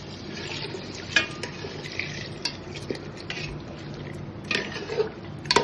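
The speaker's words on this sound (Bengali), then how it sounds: "এবার গরম জল বসিয়েছি, এই গরম জলকে ঢেলে দেবো।" Hot water goes into a pot of mutton curry with soft liquid sloshing and stirring, quiet and close, with a few sharper splashes and clinks of a spoon against the pot.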